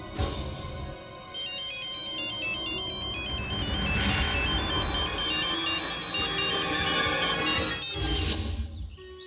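A phone rings with a bright electronic ringtone melody looping continuously and loudly, an incoming call repeating from the same number, with a brief break near the end before ringing resumes.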